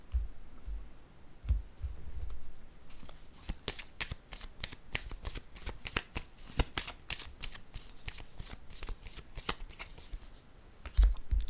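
Tarot cards are laid down and shuffled close up with rapid papery flicking and riffling, starting with a few soft taps and then building into a long, dense run of crisp card snaps.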